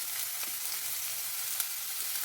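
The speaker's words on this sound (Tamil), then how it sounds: "இப்போ இதில் நம்ம ஸ்ப்ரிங் ஆனியன்ஸ் நான் சேர்த்துக்கிறேன்." Spring onions frying in a few tablespoons of hot oil in a kadai, a steady soft sizzle that runs evenly throughout with no voices.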